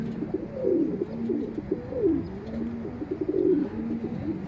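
Pigeons in a loft coo and flutter-call in agitated bursts, startled by a falcon nearby; several overlapping bird voices, moderately close, with no talking.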